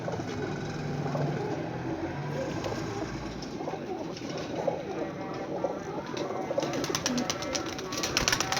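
Pigeons coo in a low, continuous murmur from a loft of young birds, with rustling and faint background activity throughout and no clear speech.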